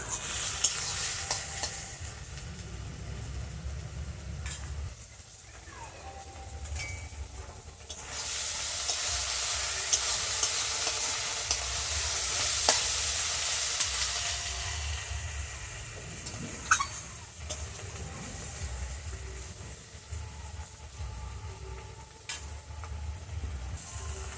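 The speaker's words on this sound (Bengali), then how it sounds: "বন্ধুরা চিংড়ি মাছ ও পেঁয়াজটা এই যে ভাজা ভাজা হয়ে গেছে।" Prawns and onion fry in a pan, a steady sizzle broken by repeated scraping stirs from a utensil, close and fairly loud with no speech.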